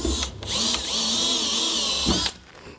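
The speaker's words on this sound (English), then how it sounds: "I'm going to take a small drill bit here and just kind of mark those holes by drilling through" A small drill bit bores through metal while a fifth-wheel trailer hitch underbed kit is installed, with a short whirring burst, a brief pause, then a sustained high drilling whine for nearly two seconds before stopping.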